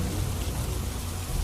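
Heavy rain pours down in Nakhatrana, Kutch, as a dense, loud, unbroken hiss of falling water with a deep rumble underneath.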